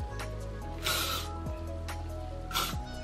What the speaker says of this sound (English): I'll just literally shake it and I spray just a little bit